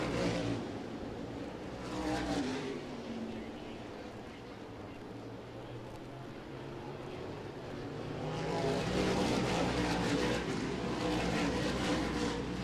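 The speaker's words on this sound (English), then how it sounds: "Brandon Ward's got a very fast race car here tonight at Carteret" Smart Modified Tour race cars roaring around the Carteret track in a continuous loud engine drone, swelling as the pack passes close near the end, with no speech.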